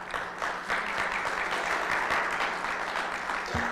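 An audience claps steadily and briefly at a city council candidate debate in Highland City, the applause fairly faint and even throughout.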